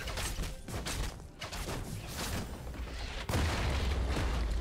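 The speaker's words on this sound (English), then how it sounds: "Blue Team's turret has been destroyed" A turret being destroyed in League of Legends during a top-lane Vayne versus Tryndamere match: a dense, rumbling boom over busy battle noise, with a sharp, louder impact near the end that holds steady.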